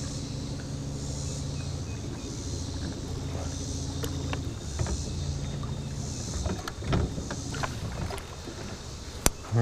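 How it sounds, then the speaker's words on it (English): A steady low motor hum drones beneath faint water sloshing as a boat backs off a bank, with scattered knocks and clunks from the hull and a sharp tap near the end. "I'm going to back the boat off the bank just a little bit."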